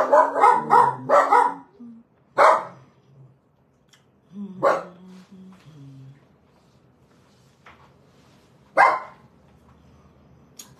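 A dog barks outside in several loud, separate bursts, a quick run of barks at first and then scattered single barks with quiet gaps between them, heard from a little way off.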